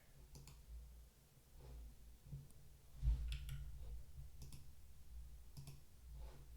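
Quiet computer keyboard typing while deploying a website: scattered light clicks and short bursts of keystrokes at close range over a faint background hum, with no talking.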